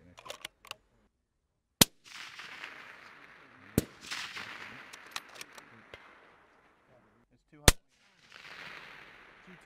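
Sniper rifles firing at the European Best Sniper Squad Competition 2016, three loud, sharp, cracking shots spaced several seconds apart, with fainter clicks and outdoor background noise in between.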